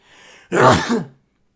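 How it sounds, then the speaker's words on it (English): A single close sneeze, a short breathy intake followed by a loud burst that quickly fades. "I'm gonna sneeze again"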